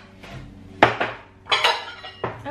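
Ravioli being served into a small container, with several sharp clinks and knocks of dishes and cutlery spaced over a couple of seconds, close up and loud, no talking.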